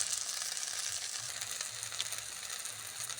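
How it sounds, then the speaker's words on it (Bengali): Taro stolon bhaji frying in a pan while being stirred, giving a soft, even sizzle with faint scraping from the stirring, steady and fairly quiet throughout. "আমি একটু নাড়াচাড়া দিয়ে ভাজি ভাজি প্রায় ভাজি ভাজি হয়ে গেছে"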